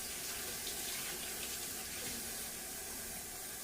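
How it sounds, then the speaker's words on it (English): Steady, continuous rush of a running tap at a sink during handwashing, close and unbroken without voices. "I'm gonna wash my hands here"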